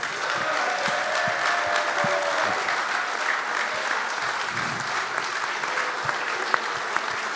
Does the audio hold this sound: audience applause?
yes